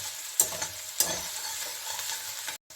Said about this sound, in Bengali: আর দিয়ে দিচ্ছি আদা কুচনো, রসুন কুচনো। এটা অল্প আমি একটু ভেজে নিচ্ছি, হালকা ভাজবো